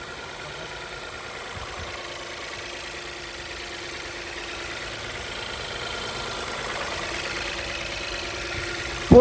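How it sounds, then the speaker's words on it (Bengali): A Toyota Corolla 2021 three-cylinder engine idles with a steady, low rumbling hum and slight vibration, running continuously with no voices. "ইঞ্জিনের সাউন্ডটা শুনেন"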